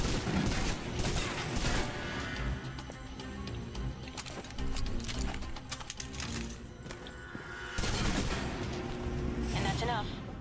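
Submachine gun fire in Alpha Protocol, dense overlapping bursts in close quarters that fill most of the stretch and ease off briefly near the end before surging again, with a voice talking over the gunfire.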